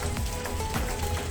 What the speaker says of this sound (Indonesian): Hujan, guys. Cuacanya sumbang.